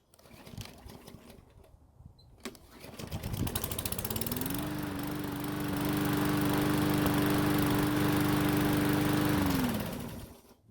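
A small lawn mower engine, restarted after a hot shutdown, sputters briefly, then catches and roars up to a steady, loud running drone that holds for several seconds before cutting off.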